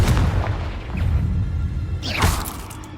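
Confringo explosion spell in Hogwarts Legacy on PS5, a loud booming blast with a whooshing tail, then a second rushing burst near the end, close and heavy.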